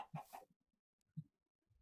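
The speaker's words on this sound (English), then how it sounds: "Hello, chickens." Chickens in the Minecraft video game, several birds clucking in two short close bursts separated by a near-silent gap, with faint soft game sounds in between.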